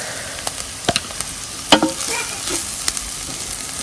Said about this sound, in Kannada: ಕಾಯಿ ತುರಿ ಜೊತೆ ಚೆನ್ನಾಗಿ ಮಿಕ್ಸ್ ಆಗಲಿ.